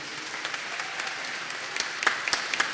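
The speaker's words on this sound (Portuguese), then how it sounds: "uma salva de palmas, por favor." Steady applause from an audience at a formal ceremonial session awarding medals, moderately loud and even, with a few sharper claps near the end.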